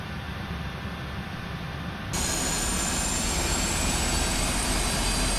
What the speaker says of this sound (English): Fuel pumps are running, so we start with engines 4 and 3.